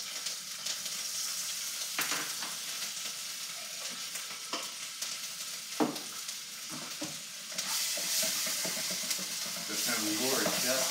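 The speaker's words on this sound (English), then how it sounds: "next up we'll be adding our little bit of garlic here" Chopped garlic sizzles and crackles in a hot pan while being stirred for duck fried rice, a steady close frying hiss with occasional utensil scrapes and someone talking now and then.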